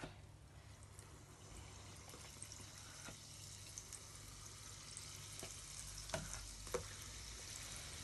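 Steady oil sizzle of puff puff dough deep frying with a low hum underneath, plus a few faint clinks and scrapes of utensils.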